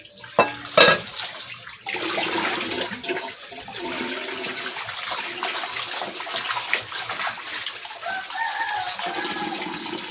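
Tap water runs steadily into a basin as meat is rinsed for Filipino carne norte, a continuous splashing wash with a brief louder burst near the start, close and alone without talk.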